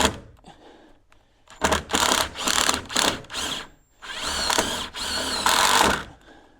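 A power driver runs in several loud bursts, ratcheting and whirring as it drives a screw while gable end windows are installed, with short pauses between bursts.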